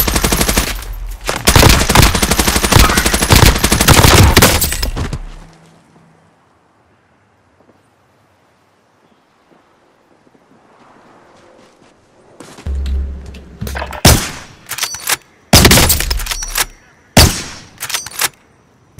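Loud bursts of rapid automatic gunfire in a video game, one long stretch of firing, then a near-silent lull, then several more choppy bursts and single shots.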